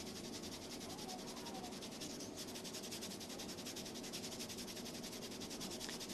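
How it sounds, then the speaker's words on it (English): Kinesiology tape being rubbed onto a child's foot during clubfoot taping, a steady, faint, close friction hiss that holds evenly throughout with no talking. "we're going to go ahead and rub that in for about 30 seconds"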